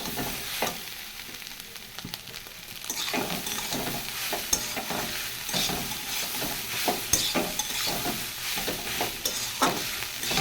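Cooked rice sizzles steadily with egg in a hot pan while a utensil scrapes and stirs it in repeated strokes, with no talking.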